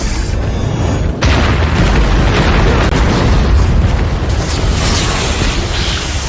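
A ship explodes in a survival film, a sustained, loud, roaring boom that rumbles on for several seconds with a dense low-end blast and debris noise, and no one talks over it.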